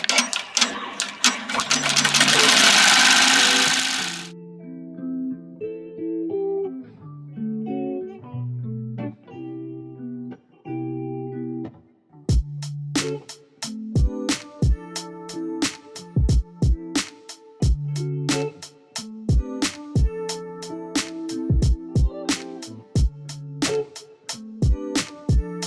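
A computerized embroidery machine stitches a design onto a beanie: after an opening burst of broad noise comes a stepping, whirring motor with shifting pitches and rapid, sharp clicks, close and steady.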